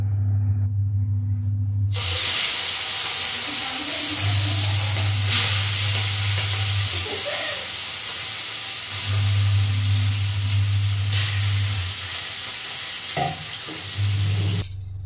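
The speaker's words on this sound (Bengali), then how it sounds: "আমি ভয়ে ভয়ে করে মানে মাছগুলোকে ভেজেছি" Fish frying in hot oil, a loud broadband sizzle that swells in bursts and eases between them, over a steady low hum, with no talking.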